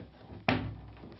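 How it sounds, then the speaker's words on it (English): Interior door lifted off its hinges after the pins are knocked out, heard as a single close wooden thud and knock with a brief rattling tail, alone in a quiet room. "Then remove the door."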